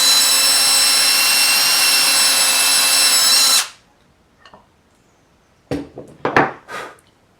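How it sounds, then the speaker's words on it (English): A drill dimpling the cast iron body of a hand plane gives a loud, close, steady whine for several seconds, then cuts off into near silence and a few scattered metallic clanks. "I'm just going to dimple the metal."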